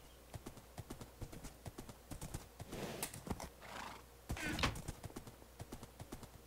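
Horse hooves clip-clopping in a Minecraft-style video game, a steady run of crisp hoof clops with a couple of whinnies and snorts in the middle, moderately loud and alone.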